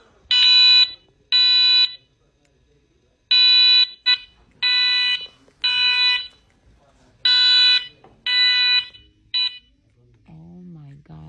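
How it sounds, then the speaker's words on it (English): A fire alarm in a movie theater blares in loud, evenly repeated buzzing bursts, about nine of them with short gaps between, followed by a brief voice at the end. "This alarm just starts going off."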